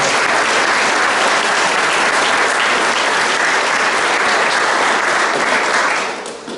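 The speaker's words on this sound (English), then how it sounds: "Please help in giving Levelwear a big round of applause for our team." Crowd applause at the opening ceremony of the Texas Junior Cup junior golf matches, loud and dense clapping that sustains evenly before fading out at the end.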